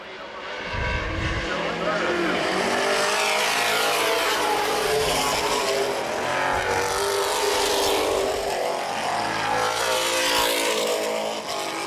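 NAPA Late Model race cars roar around the half-mile Baer Field Speedway during a 2012 feature, a continuous loud engine drone with passing surges. An announcer talks over the racing noise throughout.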